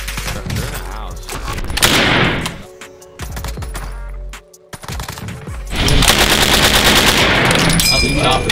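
Loud bursts of fully automatic fire from real submachine guns (MP40, StG, PPSh) at close range, with long rattling volleys separated by a brief lull.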